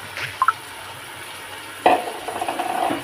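Tomato goes into a pot of coconut milk biryani and gets stirred: a couple of small clinks early on, then a stretch of soft wet stirring and faint sizzle near the microphone, with no talking.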